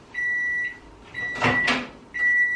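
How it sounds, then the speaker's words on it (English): A microwave oven heats a bowl of mochi dough made from sugar, rice flour and water. Close, sustained electronic tones stop for a clunk of the door, then the tones start again, with no talking. "Now it goes in the microwave for a minute."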